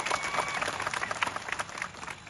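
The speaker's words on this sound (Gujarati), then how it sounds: "આપણે સૌ એમના માટે એકવાર જોરદાર તાળીઓ પાડી લઈએ" An audience at a Jaipal Singh Munda birth anniversary gathering claps in a dense, steady burst of applause, moderately loud throughout.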